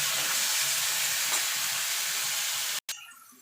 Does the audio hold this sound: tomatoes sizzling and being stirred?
yes